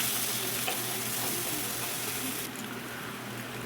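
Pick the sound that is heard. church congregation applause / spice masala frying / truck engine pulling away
spice masala frying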